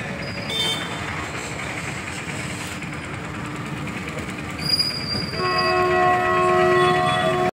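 A train at a railway station: loud, steady rumble of rolling wagons close by, with high metallic wheel squeals and a sustained horn-like tone rising toward the end.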